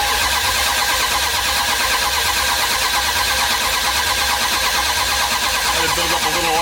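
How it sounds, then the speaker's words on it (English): A 1978 Dodge Macho Power Wagon engine cranking over, a loud, unbroken, rhythmic churning from the starter as the motor spins without catching, close and constant throughout. "We know we've got the engine cranking right now"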